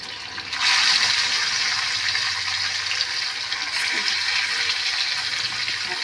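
Fish pieces drop into hot oil in a kadai, setting off a sudden loud, hissing sizzle that then continues steadily and close by. No one speaks over it.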